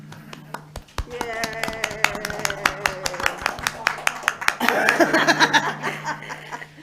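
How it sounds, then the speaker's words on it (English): Scattered clapping from attendees at a school district board meeting, a run of sharp individual claps that thickens near the end, with chuckles and murmured voices mixed in. "clap for Lori"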